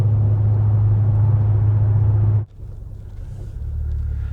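A Ford Focus ST drives along a road with a loud, steady interior engine drone and road rumble that drops abruptly to a quieter hum before gradually building again.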